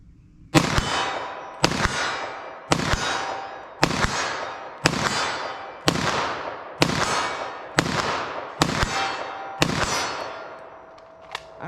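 .38 Special revolver firing at steel targets outdoors: ten loud, sharp shots at a steady pace about a second apart, each followed by a ringing metallic clang and a short decay, no talking.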